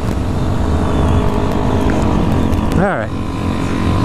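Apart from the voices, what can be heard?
Honda Grom motorcycle engine while riding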